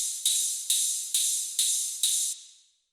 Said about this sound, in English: we have the last sound, which is the second hi-hat